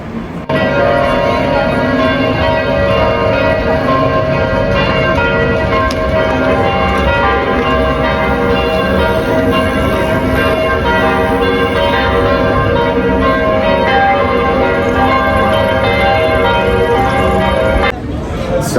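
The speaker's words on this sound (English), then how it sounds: "These church bells are truly amazing." Church bells ring continuously and loudly, their overlapping peals blending into a rich, sustained wash of tones that stops abruptly near the end.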